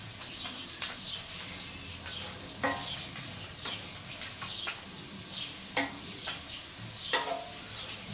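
Vegetables and strips of meat sizzle on a BBQ disk for a sliced-meat dish, with a steady close frying hiss broken by occasional clicks and scrapes of stirring.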